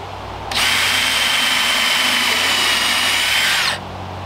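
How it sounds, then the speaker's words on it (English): A power drill whines steadily for about three seconds, boring through a wooden Jenga block with a constant high-pitched buzz that starts and stops abruptly. "We'll drill out our Jenga block."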